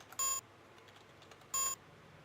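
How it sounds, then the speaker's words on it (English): Two short, sharp, high-pitched electronic beeps from the video game Space Quest II, spaced more than a second apart and loud over a faint quiet background. "You press the button. Light goes dark and you no longer hear the high-pitched beep."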